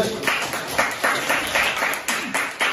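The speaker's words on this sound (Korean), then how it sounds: "장하람 나와서 박수" Applause for a student called up to give an evening speech during a Europe outreach trip, a short burst of clapping from a small group with rhythmic accents, close and moderately loud.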